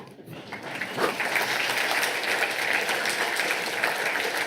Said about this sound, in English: Thank you, you may applaud.